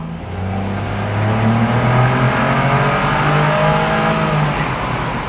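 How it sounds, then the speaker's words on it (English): A 2015 Honda S660 with a 660cc turbocharged three-cylinder engine accelerates in second gear through a tunnel, its buzzy, rising engine note loud and close and sweeping upward continuously with no talking. "660cc three-cylinder turbocharged engine with 64 horsepower"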